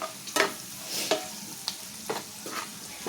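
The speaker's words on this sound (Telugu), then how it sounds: "ఇది కొంచెం పచ్చి వాసన పోయేంత వరకు వేయించండి" Broad beans with a pinch of turmeric being fried and stirred in a pan, with a faint sizzle beneath a few scraping stirs spaced through the clip and no talking.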